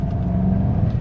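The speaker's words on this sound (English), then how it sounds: "and the turbo spooling up. You can hear it spooling away in the background" A Golf GTI Clubsport sits under acceleration, its turbocharged engine giving a steady low rumble with a faint spooling whine riding over it, close and continuous.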